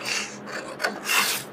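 Scissors snipping through cloth along a marked neckline curve during home tailoring, a close rasping cut in two or three short strokes with brief pauses between them.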